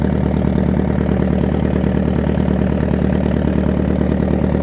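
Racing boats on a river near Rambanga ghat, engines droning steadily and loud throughout, a dense continuous low rumble with a fast pulsing texture and no pauses.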